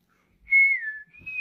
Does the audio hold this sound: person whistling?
yes